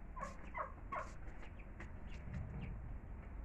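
A fowl calls loudly several times in quick succession near the start, followed by quieter scattered bird sounds over a steady background.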